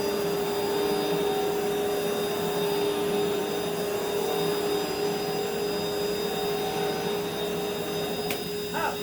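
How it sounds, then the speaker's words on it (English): A powerhead vacuum cleaner runs steadily and loudly the whole time, a constant whining drone with a high motor hum and no pauses. "we're going to vacuum out here"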